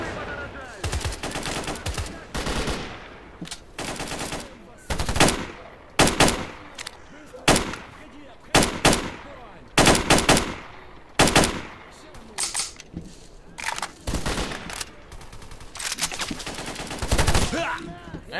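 Rapid automatic gunfire in S.T.A.L.K.E.R. Call of Chernobyl, loud bursts of repeated shots separated by short pauses, with sharp cracks and a few single shots over about eighteen seconds.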